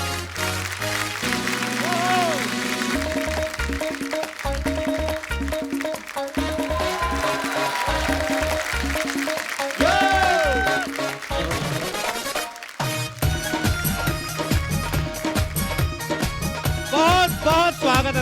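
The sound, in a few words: studio audience applause welcoming a guest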